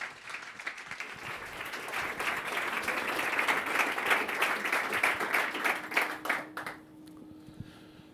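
Audience applause greeting author John Kay at a talk, a dense, steady round of clapping from a sizeable crowd that swells, holds for several seconds, then thins out and stops near the end.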